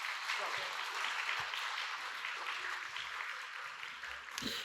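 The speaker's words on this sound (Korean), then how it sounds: "박수로 축복해 주시기 바랍니다." A church congregation at a Sunday service in Korea applauds steadily, a sustained wash of clapping from a large room that holds at an even level throughout.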